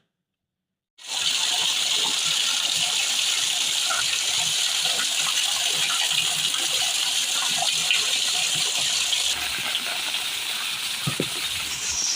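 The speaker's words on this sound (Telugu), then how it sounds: "ఇంత వరద అనేది నేను చూడలేదు" Floodwater rushing in Telangana makes a steady, loud broadband gush that starts abruptly after a second of silence and runs continuously with no talk.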